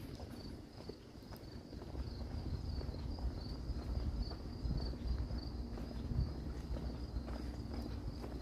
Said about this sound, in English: You can hear crickets.